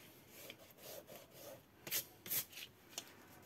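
An eraser rubs out pencil lines on paper while a gift pouch is being made, giving soft, close scuffing strokes in an uneven rhythm, with two or three sharper, louder rubs toward the end.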